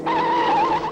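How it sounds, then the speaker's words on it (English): A 1951 Formula 1 race car spins out, giving a single loud, sustained tire squeal that wavers in pitch for about a second, up close and alone. "Even the great Farina spins."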